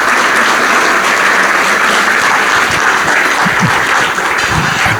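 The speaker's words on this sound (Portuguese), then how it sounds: "Quero saudar o nosso preletor com uma salva de palmas." Church congregation giving a loud round of applause to a visiting speaker, a full, sustained burst of clapping from a packed room close to the microphone, thinning slightly toward the end.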